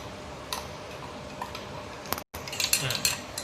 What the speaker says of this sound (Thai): คนผสมให้ตัวเเม็ดกาแฟนะคะ ละเอียด ผสมเข้ากับน้ำแบบนี้